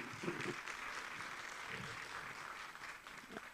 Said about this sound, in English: please do help me to give a big round of applause